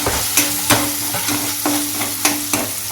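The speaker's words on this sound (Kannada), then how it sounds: "ಇವಾಗ ಹಿಕ್ಕವರೆ ಕಾಳು ಹಾಕಿ ಸ್ವಲ್ಪ ಅರಿಶಿನ ಹಾಕಿ ಹುರಿತಾ ಇದ್ದೀನಿ" Field beans fry in oil with onion and turmeric, a loud close sizzle punctuated by about six sharp spatula knocks and scrapes against the pan at an uneven rhythm, with no one talking.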